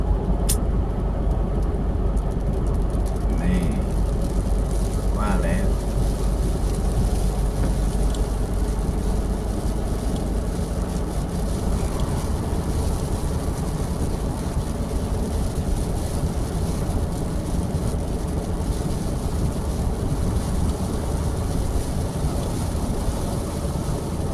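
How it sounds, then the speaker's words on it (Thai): Rain falls steadily on a car's windshield while driving on Route 228 in Nong Bua Lamphu province, Thailand, making a dense, constant wash of noise over the road and engine rumble. "ฝนตกแล้วครับ"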